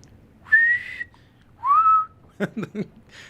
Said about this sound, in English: Okay, can I call my pet? How do I whistle?